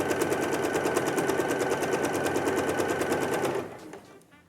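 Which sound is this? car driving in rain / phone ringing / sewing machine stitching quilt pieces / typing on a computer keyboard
sewing machine stitching quilt pieces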